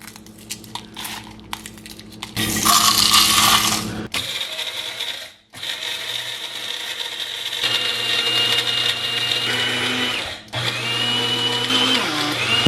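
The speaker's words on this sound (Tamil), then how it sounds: "இதில் இந்த காஃபி கிரைண்டர் எடுத்துருக்கேன்." A small electric coffee grinder grinding roasted sambar spices and cinnamon, starting in short whirring pulses, then a loud sustained high whine with brief pauses between runs, close and continuous with no speech.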